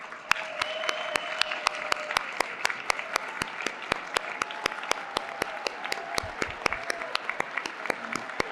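Audience applause for award recipients at an awards presentation ceremony, steady clapping from a large crowd over a sustained tone, with sharp individual claps standing out throughout.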